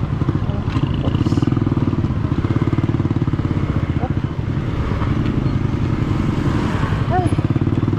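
A motorcycle engine drones steadily and loudly throughout a ride, with a continuous throbbing rumble, as a person speaks intermittently over it.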